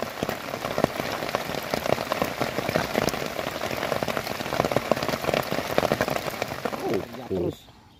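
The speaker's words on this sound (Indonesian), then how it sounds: "Hujan-hujan nih mas." Steady rain patters densely on surfaces outdoors during a fishing trip, close and continuous for several seconds before dropping away at the end, with people talking over it.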